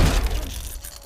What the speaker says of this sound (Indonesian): makhluk itu terus mendobrak pintu kaca seorang diri